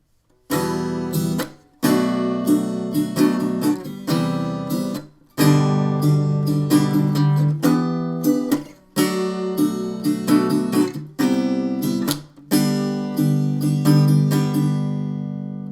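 Strummed acoustic-style guitar chords ring out in repeated rhythmic bursts, with short muted pauses between phrases, played alone and fairly close.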